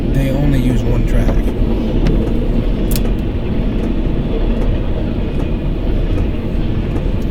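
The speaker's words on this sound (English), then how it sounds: "If you don't want to watch the train go by, you can skip some of it." Train rolling past on a two-track rail line, a loud, continuous rumble and clatter that holds steady throughout, with brief sharp squeals near the start, heard from close by.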